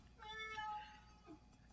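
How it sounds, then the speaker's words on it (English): A hungry cat gives one drawn-out, plaintive meow close by, with a smaller trailing cry just after it, over a quiet background. "I am having a cat cry in the background."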